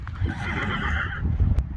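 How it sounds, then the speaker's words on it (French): Blanc, a horse at a stable, lets out a loud, close whinny that wavers for over a second, with faint shuffling and hoof sounds underneath. "C'est bien Blanc, t'es vraiment un bon cheval de youtubeuse"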